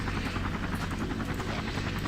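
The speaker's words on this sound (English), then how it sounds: "we can go ahead and send the helicopter back to base" Helicopter in the Emergency 4 LA mod video game, a continuous rhythmic rotor thump with engine whine, steady and fairly loud throughout the short stretch with no talking.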